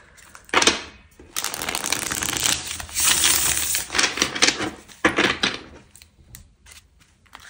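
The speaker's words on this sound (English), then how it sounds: "So let's have a shuffle." A deck of tarot cards is shuffled up close in several bursts of rapid crisp riffling and flapping, separated by short pauses, with no talking.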